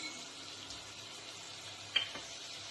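Onions and tomatoes fry in a pan, a faint, steady low sizzle heard alone, with a small clink partway through.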